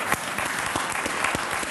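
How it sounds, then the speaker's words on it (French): Theatre audience at a comedy show in Avignon clapping, a brisk close round of applause with distinct hand claps over a steady wash. "bravo d'applaudir Linda."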